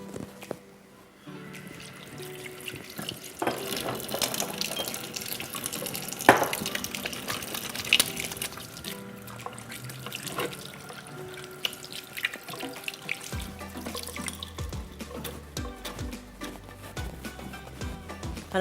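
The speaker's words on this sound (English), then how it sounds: "I'm going to quickly wash my hands." Tap water runs steadily into a kitchen sink while hands are washed, a continuous close splashing with small drips and shifts in flow, no voices.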